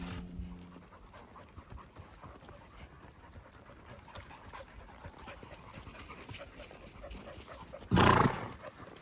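Ranch dogs pant steadily and rhythmically nearby during summer ranch work in Colorado, with horses moving around and a brief louder burst of sound near the end.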